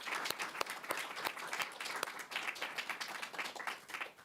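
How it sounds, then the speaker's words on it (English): An audience applauds after a poetry reading, dense steady clapping from many hands filling the room, close and sustained, tapering slightly toward the end. "Can we give her another round of applause?"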